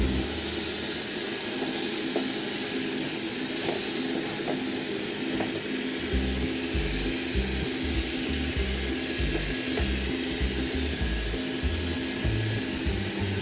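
A Xiaomi Mijia 1C 2-in-1 sweeping and mopping robot vacuum runs in standard mode while mapping a room, giving a soft, even whir with a low motor hum that grows slightly rougher partway through.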